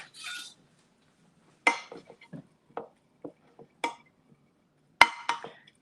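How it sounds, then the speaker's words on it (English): A spoon stirs chicken and spinach casserole ingredients in a dish, giving sparse, close scrapes and clinks against the sides with quiet gaps in between and a sharper knock near the end. "let me stir this up"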